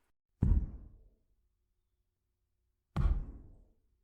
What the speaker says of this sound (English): Sounds like something knocking against the wall.